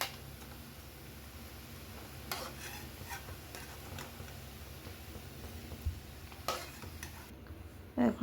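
Soybean koftas fry quietly in oil with a steady soft sizzle, broken by a few faint clicks and scrapes of a utensil against the pan, ending in a couple of louder knocks.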